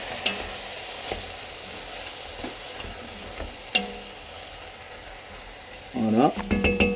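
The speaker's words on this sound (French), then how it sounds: "Je remue bien." A spoon stirs squid stew in a cooking pot, with scattered soft scrapes and clinks over a faint background hiss, followed by a louder clatter near the end.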